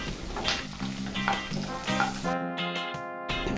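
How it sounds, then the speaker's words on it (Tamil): Bell pepper, onion and fried egg sizzle in a hot pan for an egg chilli fry, a steady close crackle with tonal hiss that drops out briefly near the end. "குடமிளகாயும் வெங்காயமும் கொஞ்சம் வதங்கினதும் நம்ம பொறிச்சு வச்சிருக்கிற முட்டையை சேர்த்துக்கலாம்"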